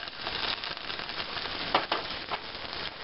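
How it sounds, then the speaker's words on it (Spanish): Onion and cilantro fry in a small amount of oil for a nopal soup, giving a steady, close crackling sizzle with occasional sharper pops and no talking. "Voy a freír cebolla y cilantro."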